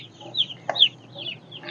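Broiler chickens cluck in short rising calls from a few birds, close by against a quiet background, with a brief sharp knock partway through.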